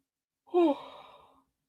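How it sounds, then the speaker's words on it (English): A single human yawn, a rising voiced breath that peaks and then trails off into a long fading exhale, close and alone against silence. "Sorry, guys, yawning."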